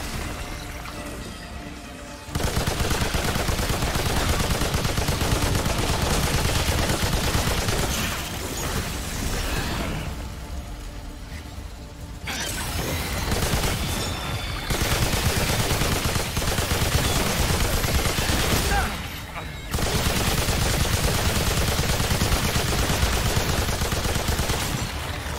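Long bursts of light machine gun fire in the video game Remnant 2, dense and loud, broken by a few short pauses, with other game noise mixed in and no talk over it.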